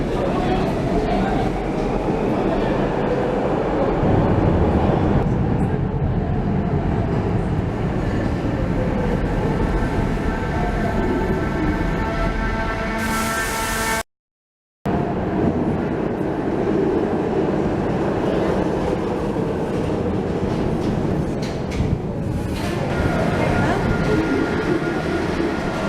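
A metro train at an underground station platform gives a loud, steady rumble with a rising motor whine as it moves, broken by a brief gap partway through, with faint voices in the background.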